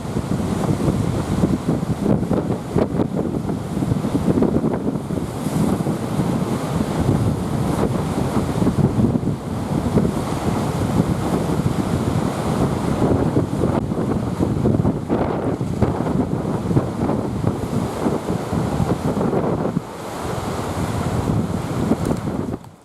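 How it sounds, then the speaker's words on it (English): Strong wind buffets the microphone on the rocky Maine coast at Bar Harbor, Mount Desert Island, a loud continuous roar with gusty rumble and possible surf underneath, steady for over twenty seconds. "It's quite windy up here right now."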